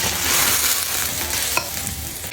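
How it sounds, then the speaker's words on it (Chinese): Pork ribs stir-frying in a home kitchen pan with soybean oil, a steady loud sizzle and scraping stir throughout, with a couple of sharp clanks near the end. "排骨下锅炒"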